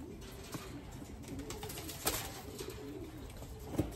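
Racing pigeons at a loft cooing softly at close range, low murmuring calls repeating irregularly over a quiet background, with a couple of brief sharper knocks.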